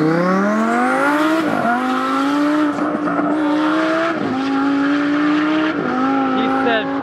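A twin-turbo Huracán sports car accelerates hard, its loud engine note climbing in pitch through several gear changes with brief dips between pulls.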